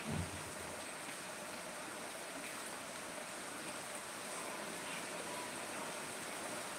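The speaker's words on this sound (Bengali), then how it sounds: "দেখতেই পাচ্ছ খুব বৃষ্টি হচ্ছে, 4 দিন ধরেই বৃষ্টি চলছে।" Heavy rain falls after days of downpour, an even, unbroken hiss that stays fairly faint and constant throughout with no one speaking.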